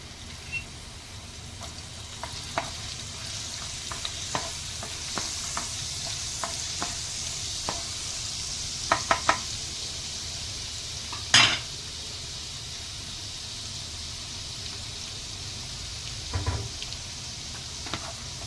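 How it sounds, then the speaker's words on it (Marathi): Garlic frying in hot oil for a prawn dish, a soft steady sizzle with occasional clicks and clinks of a spoon or spatula against the pan, no one talking. "तेल टाकलं आहे, आता आपण याच्यात लसूण टाकूया।"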